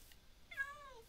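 A space kitty creature in a video game lets out a single clear, drawn-out meow, close and fairly loud against a quiet background.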